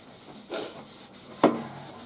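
An SOS steel-wool pad scrubs baked-on crust off a metal baking sheet: two or three brief, close, gritty rubbing strokes, the last one sharper, with no talking.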